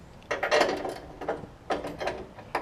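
A socket and ratchet turns on the deck of a John Deere D110 lawn mower with bent spindle mounts, giving several close, short bursts of clicking and metallic rattling separated by brief pauses.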